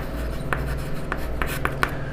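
Chalk or marker strokes on a board during a class 8 math lesson, several short scratchy marks at irregular intervals over a low steady room hum, with no talking.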